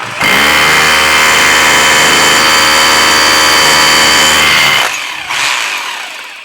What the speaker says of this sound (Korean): 옆에다 뚫을게요. 자, 한마 드릴입니다.